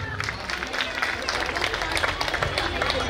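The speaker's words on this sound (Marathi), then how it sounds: "जोरदार टाळ्या वाजवायच्या सगळ्यांनी." An audience at a Home Minister road-safety awareness event claps loudly, brisk dense applause with crowd murmur running steadily from start to finish.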